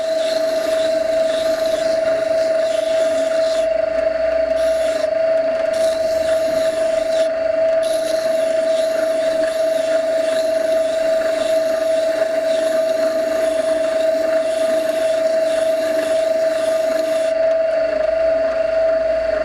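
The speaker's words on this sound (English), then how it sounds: "I've got this tiny blade that comes out of this plane. I'm just sharpening that up." A Scheppach Tiger 2000S wet sharpening wheel grinds a small plane blade in a continuous steady whine with a constant motor hum and shifting scraping texture, close and loud with no talking.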